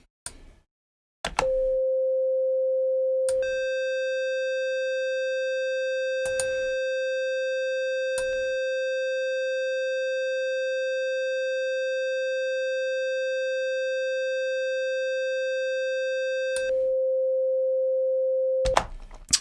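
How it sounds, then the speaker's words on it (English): Pure sine tone run through a distortion plugin, producing a steady held pitch with added harmonics and aliasing artifacts that switch on and off as settings change; a few clicks from controls, clean and alone without talking. "look at the kind of aliasing artifacts around the fundamental and the harmonic frequencies"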